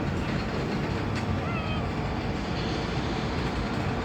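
A freight train locomotive idles or runs close by in a rail yard, giving a loud, steady, unbroken diesel rumble that fills the whole stretch.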